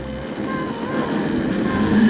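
An electric KTM motocross bike's motor whines as it is throttled on a climb, a steady rising hum with tonal overtones under faint background noise.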